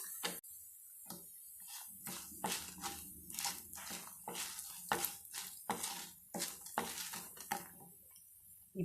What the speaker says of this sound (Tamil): எடுத்து வச்சுருந்த வல்லாரை நல்லா வதங்கிடுச்சு